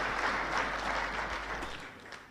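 Applause from an audience at a parliamentary induction of members, a steady wash of many hands clapping that carries on without a break and fades slightly toward the end.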